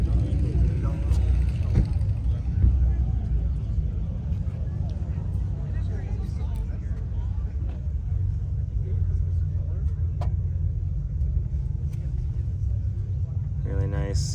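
A Ferrari 458 sits idling nearby, its engine giving a deep steady rumble that holds for about fourteen seconds while people talk over it.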